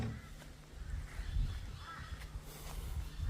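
Birds call among mango trees at a bush campsite, harsh crow-like caws coming faintly from a distance over a low outdoor rumble and hum.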